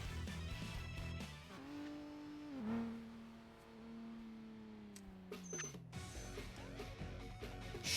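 Racing car in a video game accelerating hard with nitrous, a loud sustained engine whine that climbs and holds steady, then drops away into rougher road and tire noise near the end.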